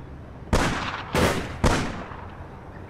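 Gunfire in the online shooter game APB Reloaded: three loud, sharp blasts about half a second apart, each trailing off in a brief rumbling decay, with no talk.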